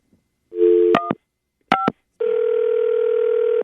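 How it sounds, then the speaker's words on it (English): Outgoing telephone call, with a short dial tone and quick keypad dialing beeps, then a steady electronic ringback tone sounding loud and close, heard alone without talk. "phone's ringing"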